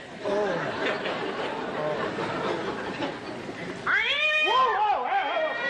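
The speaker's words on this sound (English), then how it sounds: "Oh, you stepped on the cat." A cat yowls in a loud, wavering caterwaul after being stepped on near a bar, rising suddenly over busy talk and background chatter from a 1965 television variety show.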